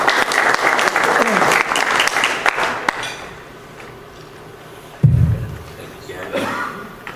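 Audience at the Greater New Orleans Quarterback Club luncheon applauding to welcome the Tulane radio color analyst, a dense burst of clapping that fades after about three seconds, followed by a thump and a voice beginning to speak.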